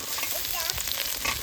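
Carrots, beans, cauliflower and peas fry in a pan for veg dal, a close, dense sizzle with bubbling crackles and soft stirring scrapes throughout.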